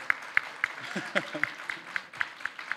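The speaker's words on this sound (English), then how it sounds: "So give him a big round of applause." An audience at a Nepalese startup festival claps in a steady, evenly spaced rhythm, each clap crisp and distinct, while a voice talks over the beat.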